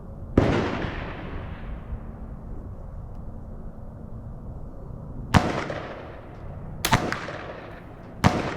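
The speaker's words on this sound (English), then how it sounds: "Let's shoot another couple." Marlin 39A rifle firing outdoors: one loud, sharp gunshot with a long echoing tail, then after a pause a few more close cracks in quick succession, with no talking.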